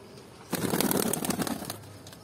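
Five newly bought pigeons burst into close, loud wing flapping, a rapid fluttering flurry lasting just over a second before settling back to quiet surroundings.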